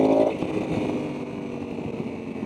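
A Honda Africa Twin 1100 adventure motorcycle with automatic transmission downshifts: a brief engine blip at the start settles into a steady, moderately loud engine drone while riding.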